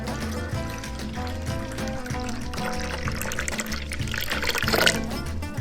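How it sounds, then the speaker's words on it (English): About a cup and a half of dairy-free milk pours into a coffee slushee mix, a soft continuous liquid stream under background music, swelling briefly near the end. "So we're gonna add about a cup and a half of milk to this."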